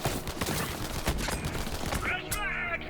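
A Vladof rifle in Borderlands 3 fires in a rapid, loud automatic burst of shots that continues before trailing off, with someone talking over the gunfire.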